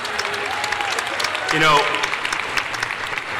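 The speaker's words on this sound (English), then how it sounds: "let's give them a round of applause." An audience at a university spring commencement in a field house applauds, broad sustained clapping filling a large hall, with a brief voice speaking over it partway through.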